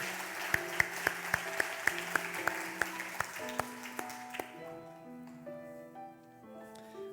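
A church congregation claps to celebrate newly appointed deaconesses at a Sunday service. The claps come in an even rhythm alongside sustained keyboard music, then thin out and fade, leaving the music playing on.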